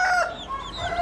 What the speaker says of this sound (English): Big old rooster. Buff rooster.